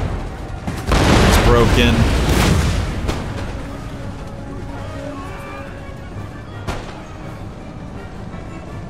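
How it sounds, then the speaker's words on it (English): Cannon volley in Empire: Total War, with a loud booming burst that rolls on for about two seconds and then gives way to scattered sharp reports and battle noise, while a voice talks over it. "whenever you're ready to fire, please do"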